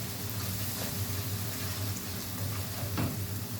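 Onion and garlic sizzling in oil in a pan for a mash dal, with a steady close crackle throughout and a few louder pops near the end.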